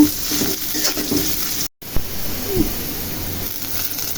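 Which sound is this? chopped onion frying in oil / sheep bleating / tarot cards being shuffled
chopped onion frying in oil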